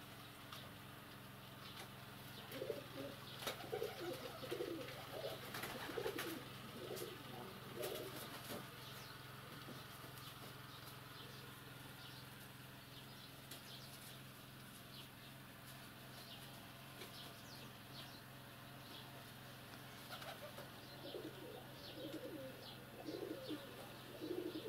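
Pigeons in a straw-lined loft give repeated low, throaty coos in soft bursts, some close and some farther off, with occasional rustling and chirps. The loft is otherwise quiet and no one speaks.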